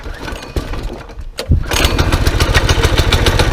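Coleman B200R minibike engine warming up in cold winter weather, sputtering at first and then settling into a loud, steady, rapid putter close by, with no talk over it.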